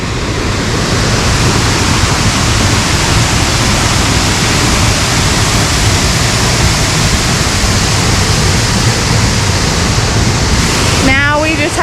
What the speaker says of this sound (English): we just reached 50-foot falls